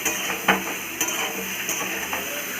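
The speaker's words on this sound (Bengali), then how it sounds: "এবারে দিয়ে দেবো মশলাটার উপরে মাছের ঝোল বানাচ্ছি" Fried fish pieces stirred into a sizzling spice paste of onion and panch phoron for a Bengali fish curry; steady frying hiss with a few sharp utensil scrapes and clinks against the pan, close and moderately loud, no talking.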